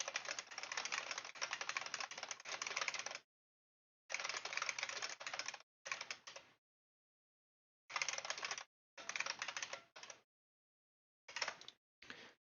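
Rapid keyboard typing while writing code, dense clattering bursts of keystrokes separated by silent pauses, close and alone without talk.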